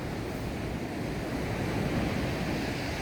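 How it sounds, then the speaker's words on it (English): Surf breaking on a beach at Faro, Portugal, a steady close wash of waves with wind buffeting the microphone, no voices. "What an absolutely gorgeous beach."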